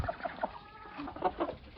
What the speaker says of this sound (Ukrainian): Так, годую півнів.